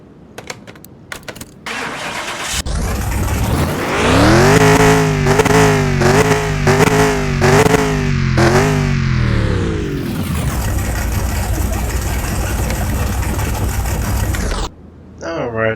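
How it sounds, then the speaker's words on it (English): A Ford GT40 engine under restoration cranks and fires on the first try, revving up in several loud rising surges before settling into a steady idle that runs for several seconds and then cuts off. "we were able to get that engine started on the first try"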